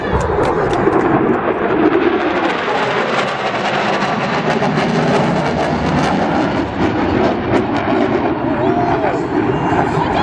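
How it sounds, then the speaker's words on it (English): A loud, sustained jet roar rumbles continuously, a broad thundering wash of engine noise from an FA-18 Super Hornet passing overhead at a Blue Angels practice show, with crowd and announcer sounds underneath. "the FA-18 Super Hornet"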